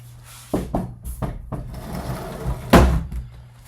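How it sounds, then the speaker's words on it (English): Knocking on a hospital patient's room door, several firm raps spread over a few seconds with one louder thud near the end, close by in a quiet room. "I'm going to knock on the door."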